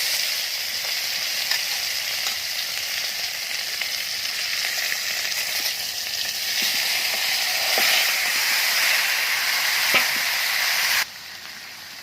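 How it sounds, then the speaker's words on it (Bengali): Meat sizzling and frying in a pan with bay leaves and cumin, a steady bright hiss with occasional stirring clicks, dropping abruptly quieter near the end. "একটু নেড়ে চেড়ে আস্তে আস্তে মাংসগুলোকে দিয়ে দেব"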